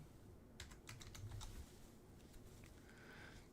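Quick bursts of keystrokes on a computer keyboard as stock ticker symbols are entered, soft and close, with short pauses between clusters and no voices.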